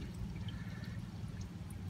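Engine oil draining from a 2011 Ford Edge during an oil change, a steady low liquid pour and trickle running continuously into a pan, fairly quiet and close.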